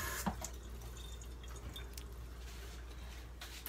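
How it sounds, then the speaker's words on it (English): Running tap water splashes over hands being washed in a sink, a steady close trickle and patter with faint drips, no voices. "One-handed wash my hands real quick."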